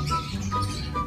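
Pet birds kept for breeding chirp in short, high repeated calls over a low background hum at a home setup.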